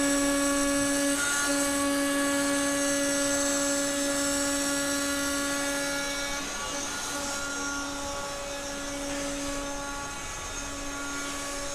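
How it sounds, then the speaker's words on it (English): A Zund digital die cutting machine in a print shop gives a steady high whine with sustained tonal hum that runs continuously and loud, easing slightly toward the end. "So this is what we're considering a Zund digital die cutting capability."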